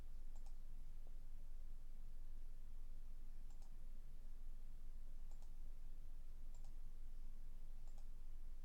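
A computer mouse clicked at a slow, regular pace of roughly one click per second, each click faint and crisp over a constant background hiss.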